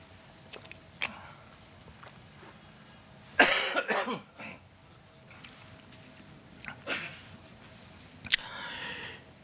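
A person with a cold coughs in a few separate bursts, the loudest near the middle and a shorter one toward the end, close to the recorder against quiet outdoor background.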